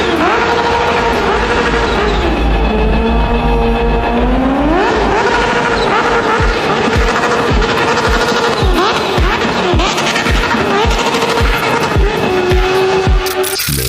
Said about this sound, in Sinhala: මේක සාමාන්‍ය බයික් එකකින් එන සද්දයක් නෙවෙයි.